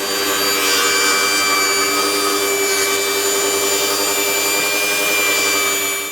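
A Flex table saw makes a test cut in wood, a loud, steady whining rasp that holds evenly for several seconds at close range.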